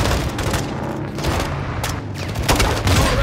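Grenade launcher fire and gunfire in the Call of Duty: Modern Warfare II campaign, with loud, dense overlapping bursts and heavy booms rolling continuously and close at hand.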